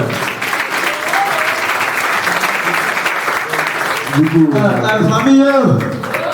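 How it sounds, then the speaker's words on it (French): An audience at a home concert applauds loudly and steadily for several seconds, the clapping fading as a voice begins speaking near the end. "On applaudit, s'il vous plaît."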